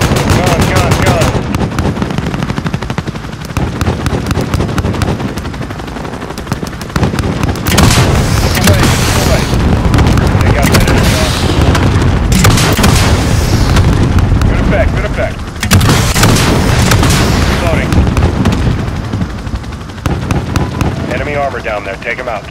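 Call of Duty: Modern Warfare game combat: an aircraft's cannon fires long, loud rattling bursts with heavy explosions booming between them, dense and continuous, while radio voices talk over the barrage.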